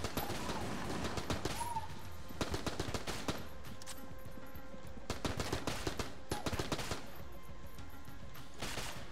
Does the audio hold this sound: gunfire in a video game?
yes